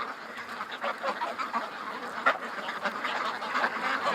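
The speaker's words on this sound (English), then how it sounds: "there's that little wobble duck" A duck quacks repeatedly in short nasal bursts outdoors, with wind noise in the background and no talking.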